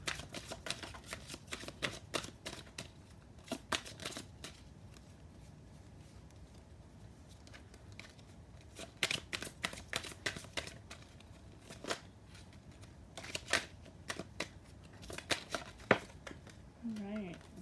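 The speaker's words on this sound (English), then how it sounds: "I will pull a few cards from this oracle deck." An oracle card deck being shuffled by hand, a quiet run of soft riffling and flicking card sounds arriving in irregular bursts, with a faint low murmur underneath.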